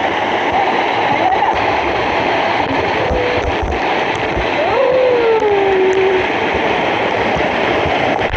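Water fountain spraying at Laketown Waterpark in Taiping, a loud continuous rushing splash that fills the scene, with a voice and other people talking over it.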